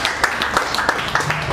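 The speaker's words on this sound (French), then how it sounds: "Nous applaudissons." A short burst of audience clapping at a Congolese diaspora International Women's Day event, scattered, moderately loud hand claps with a few sharper individual claps standing out.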